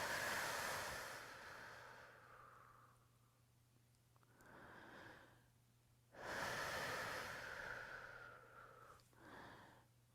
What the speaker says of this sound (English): Nice big deep breaths in